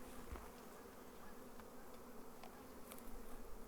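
Honey bees in a nucleus hive keep up a steady, even buzz throughout, close and unbroken, with no talking.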